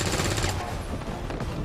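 Rapid video game gunfire, a quick burst of sharp shots over dense broadband noise, loud and close with no talking.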